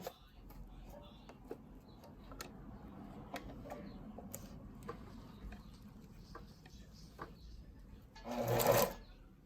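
Sewing machine back stitching a ribbon tutu: soft, steady ticking of the mechanism through most of the stretch, then a brief, louder run of stitching close by near the end.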